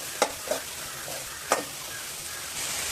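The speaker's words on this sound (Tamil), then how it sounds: "கடாயில் போட்டாச்சு நல்லா கலந்து விட்டுக்குவோம்" Cluster beans frying in a kadai as they are stirred, a steady soft sizzle broken by three sharp clicks of a spoon against the pan, close and with no talk.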